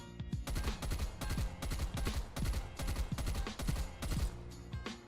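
Long-range bursts of game gunfire from a weapon fitted with a damage barrel, rapid shots in repeated short clusters of about half a second each, punchy and steady, with no voices.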